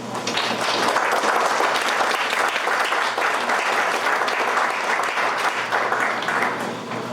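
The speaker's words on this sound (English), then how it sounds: "Can we get another round of applause" Sustained applause from a large audience at a Class of 2021 high school graduation ceremony, dense steady clapping filling the space without pause.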